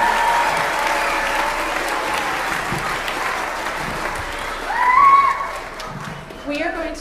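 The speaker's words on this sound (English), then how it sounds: "So please give her a round of applause." An audience applauding at a youth string music concert, sustained loud clapping and crowd noise that swells near the end, with voices and brief tonal sounds mixed in.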